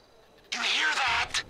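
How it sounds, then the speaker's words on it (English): An engine in the GTA 5 video game starts up and runs close by, a loud broadband roar for about a second that dips briefly and then swells again. "I can hear an engine"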